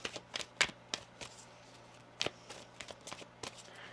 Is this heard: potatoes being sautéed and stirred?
no